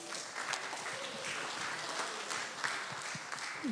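Applause for a comedian at a stand-up show, a steady and fairly faint patter of clapping from a small crowd lasting throughout, with a few louder claps.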